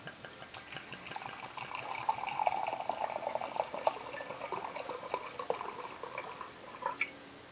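Jim Beam bourbon pours steadily from its bottle into a crock pot, a continuous liquid trickle with small gurgles running close and alone for several seconds.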